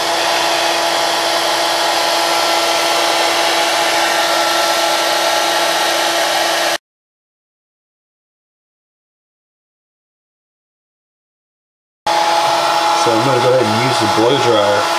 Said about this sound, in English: Now they did show them using a little blow dryer to loosen up the adhesive.